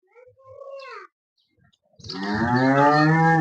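Holstein Friesian (HF) cattle for sale on a farm: a short, faint call at first, then after a pause a loud, close, sustained moo with a rich harmonic tone lasting about a second and a half.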